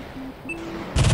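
A burst of rapid jet cannon fire from an aircraft in the combat game Metalstorm breaks in at the end of a short, quiet game passage and stays loud and close.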